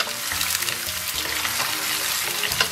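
Chopped scallion and garlic stir-fried in a wok for braised pork ribs, a steady close sizzle with scraping stirs throughout.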